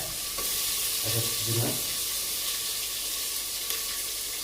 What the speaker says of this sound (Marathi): आहो कढीपत्ता मी कांदा टाकून घेतलेला आहे.